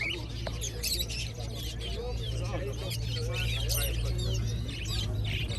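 Chicks and small caged birds chirp and tweet at a busy outdoor bird market, with steady high peeping layered over crowd murmur, a low hum and nearby voices.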